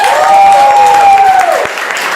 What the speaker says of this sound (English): Round of applause for Shauna and Darby.